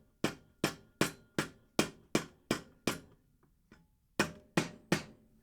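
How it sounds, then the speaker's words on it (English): A rubber mallet taps an exhaust pipe onto its tight lower mounting on a KTM Duke, about a dozen sharp, evenly spaced knocks, close and clear, with a short pause before the last few. "I've just tapped it with a rubber mallet using a soft"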